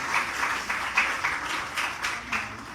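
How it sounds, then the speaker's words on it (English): Audience applause at a literary festival conversation event, a steady wash of many hands clapping at moderate distance with small swells, continuing throughout without talk. "let's give that a round of applause"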